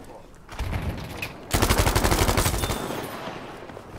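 Thompson submachine gun fire in Battlefield 5: a short burst, then a longer rapid automatic volley of close, loud shots that fades into a faint tail.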